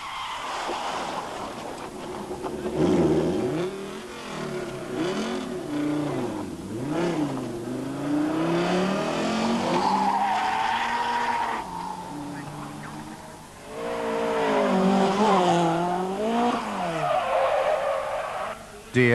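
Toyota rally cars at a 1987 rally show stage, engines revving and rising and falling in pitch while tyres skid and scrub, steady and loud throughout with swelling passes.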